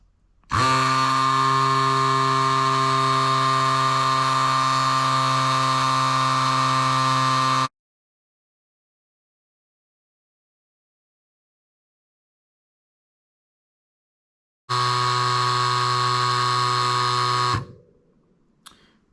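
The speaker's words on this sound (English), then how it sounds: "it's gonna come on as soon as I push the power button, and it'll turn itself off at 12 psi" A Cycplus AS2 Pro electric tire inflator pumps up a fat e-bike tire, a loud steady motor buzz running for about seven seconds, then silence, then a second shorter burst that stops abruptly.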